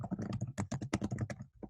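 Rapid clicking keystrokes as a quiz question is typed on a computer keyboard, a dense irregular patter of close taps with a brief pause near the end.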